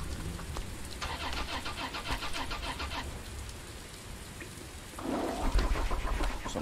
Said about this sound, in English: Car engine trying to start.